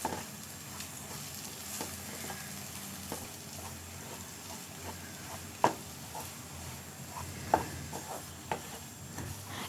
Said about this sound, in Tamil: இந்த மாதிரி நல்லா உதிரியாக முட்டை வர வரைக்கும் நம்ம இதை ஃப்ரை பண்ணி எடுத்துக்கணும்